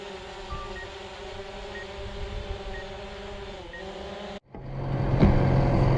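A vehicle drives up a country road past a field of late-drilled winter barley, its engine hum steady from inside the cab, then opening into a louder, rougher rumble of road and wind noise near the end.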